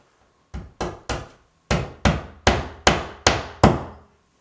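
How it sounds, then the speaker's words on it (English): A hammer taps plastic wall anchors into drilled holes in a wall, nine sharp, close strikes in an uneven series, with a pause after the third. "If they're not going in fairly easily just by tapping on the hammer"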